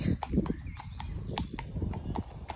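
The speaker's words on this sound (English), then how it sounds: "so I'm going to let Gary ride away" Horse hooves clip-clop in a steady walking rhythm on a hard surface as a horse is ridden away, fairly close and distinct, with no talk.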